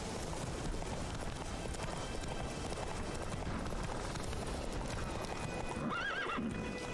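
The horse Roach galloping in a video game, a fast steady drum of hoofbeats close by with a whinny near the end, no talking.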